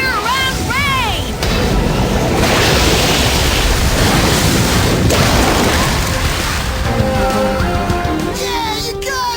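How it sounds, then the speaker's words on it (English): A magical water effect conjured by a water card in an animated show: a loud, continuous rushing surge of water and wind, bookended by bright whooshing swept tones, with no talk over it. "Water card! Form a sphere around Ray"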